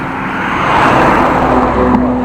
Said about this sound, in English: Car behind me, overtaking me.